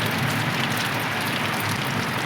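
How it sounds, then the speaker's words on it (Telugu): Evening rain falls steadily as an even, close wash of hiss with no break or change across the short stretch. "వాన చూసారు కదా వాన వస్తుంది"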